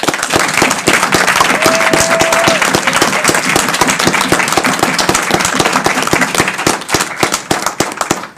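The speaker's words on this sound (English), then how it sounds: "How about a round of applause for our graduates?" A loud, dense round of applause fills a board of education meeting room for graduates, with many sharp hand claps blending into a continuous roar throughout.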